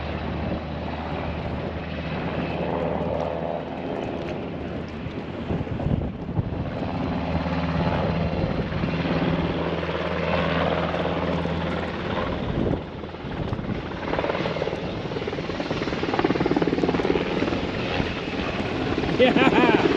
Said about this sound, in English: It's my buddy on Instagram, Bryan Wilson, giving us a flyby.